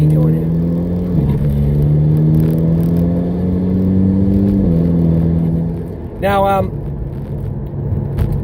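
A car with newly installed BC Racing BR Series coilovers gathers speed, its engine droning steadily with rising tone, a short higher whine near the end, while someone talks over it throughout.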